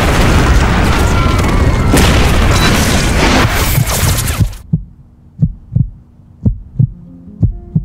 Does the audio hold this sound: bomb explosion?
yes